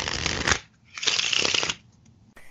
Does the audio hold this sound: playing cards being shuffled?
yes